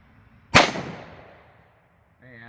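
A single sharp, loud pistol shot from a .357 SIG handgun firing Underwood 90gr Xtreme Defender ammunition outdoors, with a long decaying echo. A voice begins speaking near the end.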